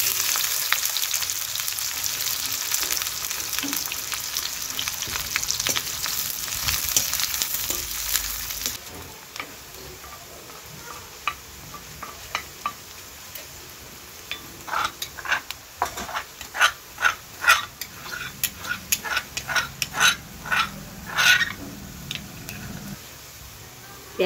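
Onion fries with cumin in a pan, a steady loud sizzle at first, then a quieter fry broken by repeated scraping and stirring clicks of a utensil against the pan.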